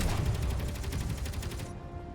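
A Space Engineers starfighter's assault cannons hammer out a fast, regular string of deep, punchy shots close by, holding steady before the top end drops away and the barrage thins near the close.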